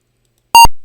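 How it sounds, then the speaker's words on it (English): A single short, loud electronic beep from an Apple II computer's built-in beeper, a clipped pulse of a fraction of a second heard alone after silence. "We've got to turn down the old Apple beeper here."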